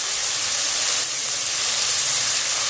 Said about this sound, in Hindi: 2 टमाटरों का पेस्ट हमने डाला है और इसको खूब फ्राई करेंगे।